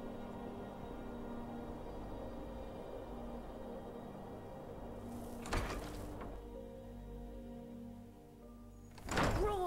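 A door in the Skyrim video game opens with a couple of sharp wooden thunks, one midway and another louder one at the end, over a low, steady ambient drone.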